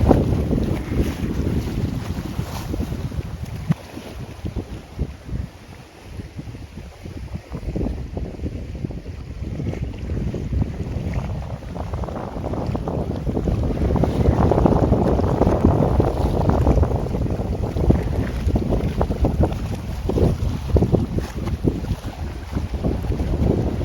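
Strong, gusty wind buffets the microphone by the sea near three peninsulas, a loud continuous roar that swells and eases with the gusts, with a faint surf wash beneath and no talking.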